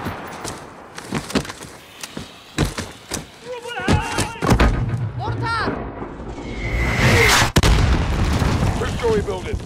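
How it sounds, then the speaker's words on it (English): Mortar rounds blast during a chaotic combat mission at an embassy in Call of Duty: Modern Warfare, with several heavy booms and thuds landing among gunfire while soldiers shout over the battle. "Mortar!"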